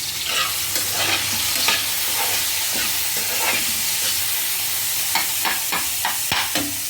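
Tomato coriander chutney simmers in a pan with a steady soft sizzle, broken by repeated scraping stirs of a spoon, close and clear with no talking.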